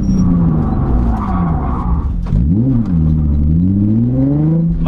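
A Nissan 350Z revs hard while drifting, the engine note sustained and loud throughout, climbing and dipping with throttle changes, with a brief tire-skid texture partway through and no talk.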